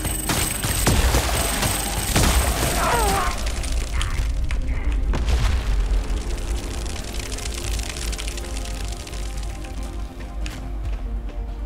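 Gunfire in the video game Phantom Fury, a burst of loud rapid shots and booms early on that fades into quieter game ambience, with a voice speaking over it.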